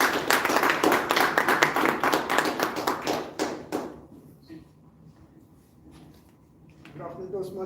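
Members at a Toastmasters club meeting in Gurgaon give a round of clapping, crisp, close individual claps for about four seconds that die away into a quiet room before someone starts speaking.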